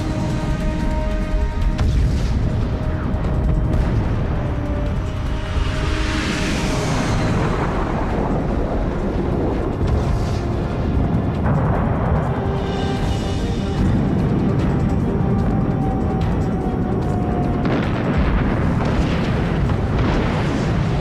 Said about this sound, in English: They pulverize the threat, clearing the way for a paralyzing wave of bomb runs.